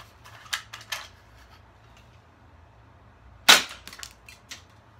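BB gun fired at a target, giving three sharp snapping shots: two close together early on and a louder crack a few seconds later, each followed by a faint rattle, with quiet between them.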